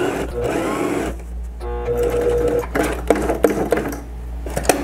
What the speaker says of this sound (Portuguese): Esse pesponto ele tem que ser feito pelo direito da peça, para você ter o controle de onde está sendo costurado